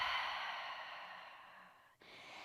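A single long, deep exhale during beginner yoga breathing, a soft airy rush that fades gradually, then a brief quieter breath at the end.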